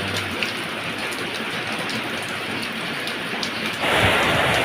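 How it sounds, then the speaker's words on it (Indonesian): Heavy rain in a windy storm pours in a dense, continuous hiss and patter on surfaces nearby, growing noticeably louder and heavier toward the end. "Hujannya semakin deras"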